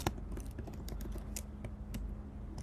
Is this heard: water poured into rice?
no